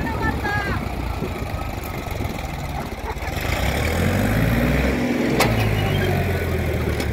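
A Sonalika DI-35 39 HP tractor engine runs loud and close while working soil, a constant diesel rumble that swells and labours midway, with someone talking over it.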